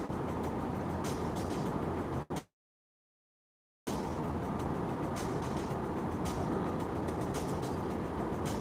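Steady broadband road and wind roar inside a Tesla Model Y cabin at 130 km/h, continuous and fairly loud, broken by a brief dropout of silence before the drone resumes unchanged, with no talking.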